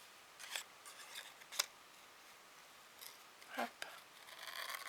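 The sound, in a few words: scissors cutting out paper around a traced outline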